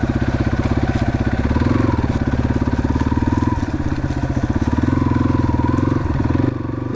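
A Yamaha XT250 on original street-and-trail tires rides a muddy trail, its single-cylinder engine thumping steadily and close up with a pulsing exhaust beat and rough clattering, and no talk over it.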